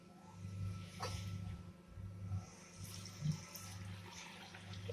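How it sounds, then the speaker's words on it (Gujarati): Clean water poured onto washed toor dal (split pigeon peas) in a pot, a steady splashing pour running most of the way through, fairly close, with a faint low hum underneath and no talking. "હવે આપણે આમાં ઉમેરીશું ચોખ્ખું પાણી"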